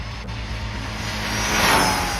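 A Rlaarlo DSK Roller RC car runs at full throttle, giving a steady electric whine that swells slightly louder toward the end, heard alone.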